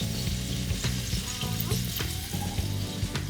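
Chicken tenders frying in hot oil give a steady, close sizzle with crackling pops throughout.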